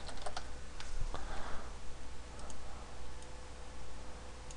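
Keys clatter in quick, uneven bursts as text is typed on a computer keyboard, a steady run of light clicks close by with short pauses, faint and alone over a low room hum.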